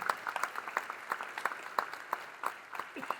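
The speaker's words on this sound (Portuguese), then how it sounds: "Salve de palmas para o Daniel e para o Cizenando." An audience in a theatre applauding steadily, dense overlapping claps in a continuous rhythm, moderately distant and fairly quiet, for the whole stretch.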